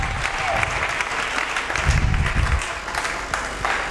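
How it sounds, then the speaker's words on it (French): A church congregation at a sermon breaks into loud, dense applause, many hands clapping at once for a few seconds, close and full. "Acclamez pour moi, j'ai bien prêché"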